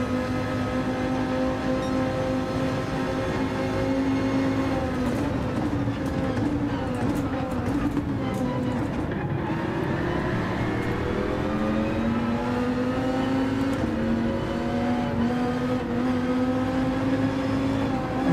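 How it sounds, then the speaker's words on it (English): A Dodge Viper GTS-R Gr.3 racing engine in Gran Turismo 7 whines continuously, its pitch rising and dipping as it shifts gears and accelerates, loud and close with no talking over it. "You can hear my car, I'm sure."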